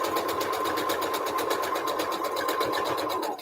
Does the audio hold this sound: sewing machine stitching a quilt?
yes